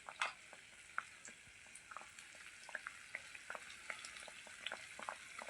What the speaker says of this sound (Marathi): बघा बालुशाही तळायला छान अशी सुरू झालेली आहे.